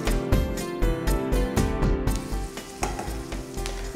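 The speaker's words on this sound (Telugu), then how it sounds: "ఇప్పుడు ఇవన్నీ వేసుకున్నాం కదా, దీన్ని బాగా ఫ్రై చేసుకుందాం." A coconut rice tempering with cumin seeds fries in a pan, crackling and sizzling loudly, with rhythmic stirring scrapes every half second or so.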